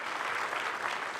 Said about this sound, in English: Let's give them a round of applause for what they have done for chess